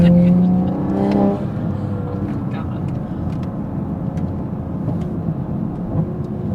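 An MK5 Toyota Supra drives a winding mountain road, heard from inside the cabin as a steady, loud engine drone and road rumble that eases slightly after the first second and then holds even throughout.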